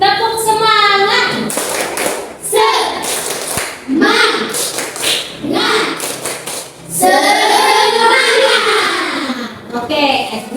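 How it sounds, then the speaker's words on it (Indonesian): A primary school class does a rhythmic spirit clap together, bursts of quick patterned clapping loud and close, alternating with children and a teacher chanting and talking. "Kita tepuk semangat dulu"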